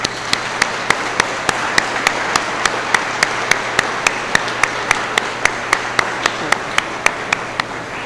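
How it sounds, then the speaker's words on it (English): A standing graduation ceremony audience applauds in a steady wash of clapping, with a sharp, evenly spaced beat ticking through it at a brisk regular pace. "I want you to give them a round of applause"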